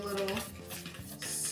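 A whisk scrapes and clinks around a bowl of dry waffle ingredients, brief close metallic stirring with no talk.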